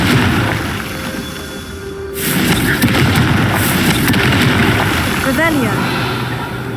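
A Confringo fire spell explodes in Hogwarts Legacy, a sudden heavy boom that gives way to a sustained roaring, crackling rush of fire and debris, loud and close.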